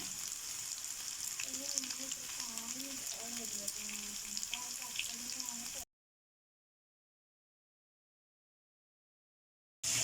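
Chicken frying in a pan with a steady, close sizzle and faint stirring clatter, running for about six seconds before cutting to silence, with a brief burst of sound at the very end.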